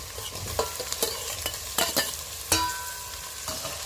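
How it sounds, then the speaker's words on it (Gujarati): Chopped tomatoes fry in a pan for vegetable pulao, a sizzling base broken by repeated spatula scrapes and clacks against the pan, close and with no talking. "એની અંદર હવે નાખીશું આપણે મોટા ચોપ કરેલા મોટું કટિંગ કરેલું ટામેટાં"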